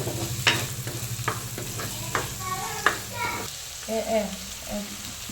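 Tomatoes stirred as they fry in a pan for a fish curry, giving a close sizzle with several quick scraping strokes, then quieter bubbling; faint voices in the background.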